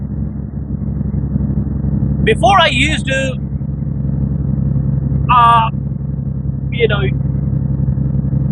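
A Detroit Series 60 14-liter diesel truck engine with its EGR deleted idles in a steady, deep, even rumble, while someone talks in short bursts close by.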